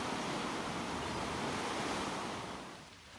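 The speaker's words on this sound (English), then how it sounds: "Check out this sweet cove on the Pacific coast." Ocean waves at a cove on the Pacific coast, a continuous loud roar of surf with wind noise that eases slightly at the end, no voices.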